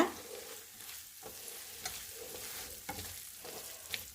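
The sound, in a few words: stirring garam masala into chicken tikka masala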